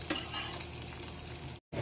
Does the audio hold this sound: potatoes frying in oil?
yes